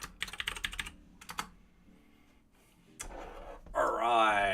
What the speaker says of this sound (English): I've got to type in my password for my VM